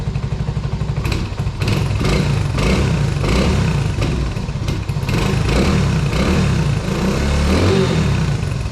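The engine of a 1984 Honda 125M three-wheeler, hard to start, runs close by. It is a loud, steady, rough putter with rapid clattering pulses and slight revving swells, with no talking.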